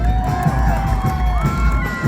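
An outdoor concert crowd at a show in the Kropyvnytskyi Dendropark claps and cheers loudly, a continuous roar of applause with high whoops and shouts over a steady musical backing.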